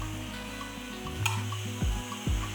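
A spoon stirs a Kashmiri chili powder mixture in a pan, scraping and clinking against the metal in a few strokes, close and fairly clear with no talk.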